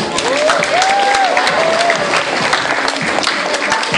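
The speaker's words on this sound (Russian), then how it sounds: "Аплодисменты." An audience at a girls' stage pageant at a summer camp breaks into dense, sustained applause that fills the room, with a voice rising briefly over the clapping.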